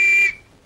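A whistle is blown, giving a single sharp, shrill blast that lasts about a quarter second and then cuts off into quiet.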